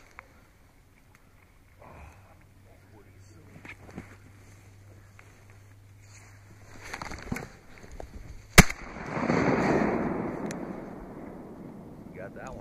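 Shotgun blasts while duck hunting in Rhode Island, one sharp loud report standing out near the end and followed by a long rumbling echo, with a few fainter pops earlier, wind noise and hunters talking throughout.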